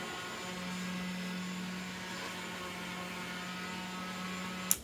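A power sander whirs in a steady, unbroken drone with a low electric hum underneath, holding an even level throughout with no talking.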